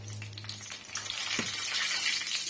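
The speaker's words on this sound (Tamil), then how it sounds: "சேர்த்துட்டு கலர் நல்லா சேஞ்ச் ஆகிட்டு வர வரைக்கும் இதை நம்ம வறுத்து விட்டுக்கலாங்க" Dried red chillies frying in hot oil for rasam give a steady, close sizzle with crackling pops that builds slightly louder over a couple of seconds, with no talking.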